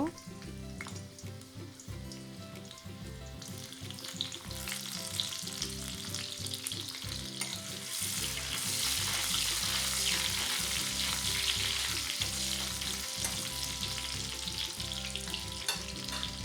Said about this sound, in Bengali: তেলটা গরম হলে আদা রসুন ভালো করে ভেজে নেব।